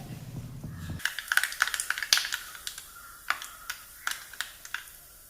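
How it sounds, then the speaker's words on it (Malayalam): Mustard seeds splutter in hot coconut oil in a pan, a burst of sharp, irregular crackles and pops that thins out into scattered snaps. "കടുക് ചേർക്കാം. 1/2 ടീസ്പൂൺ കടുകാണ് ചേർത്തിരിക്കുന്നത്."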